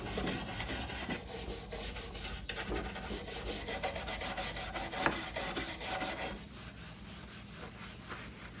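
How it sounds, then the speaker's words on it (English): Old finish is scraped and brushed off a 100+ year old Neoclassical French wooden chest of drawers, with acetone, a soft wire brush and 2/0 steel wool in use; a steady, close, continuous rasping scrub runs throughout and eases slightly near the end. "After I scrape off as much of the finish as I can, I'll go in with some acetone and a soft wire brush, and then some 2/0 steel wool"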